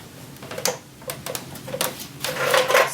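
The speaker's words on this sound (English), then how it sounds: "I am going to stitch the shoulder seams" A sewing machine stitches the shoulder seams of a shirt at a regular stitch length in short bursts of rapid, ticking whir, with brief pauses between runs and no talking.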